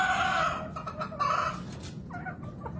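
Hens cluck and squawk close by in a few uneven bursts, with farmyard background noise and no talking.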